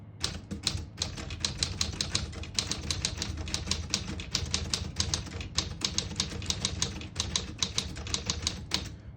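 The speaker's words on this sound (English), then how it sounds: "Beautiful typing machine." Typing on a 1947 Smith-Corona Silent manual portable typewriter: a fast, steady stream of crisp key strikes with brief pauses, close and fairly quiet, with no talking.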